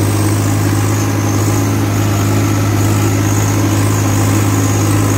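A Swraj 855 FE three-speed tractor engine idles nearby with a steady, loud, low drone and an even mechanical throb that barely changes from start to finish, and no voices are heard.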